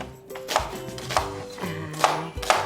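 A knife chopping an onion on a cutting board for a pureed soup, five or six distinct, fairly quiet knocks at an uneven pace.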